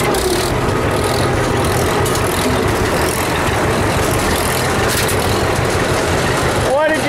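A John Deere 60 tractor engine runs loud and close with a steady low rumble, under talking voices, while it drags a Super M.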